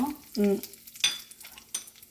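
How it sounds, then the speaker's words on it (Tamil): Vadagam and dried chillies hit a hot pan for keerai poriyal, producing short close sizzles and stirring scrapes in a brief burst. "இப்போ வானலை வச்சுட்டு வடகம், காஞ்ச மிளகா போடுறேன்."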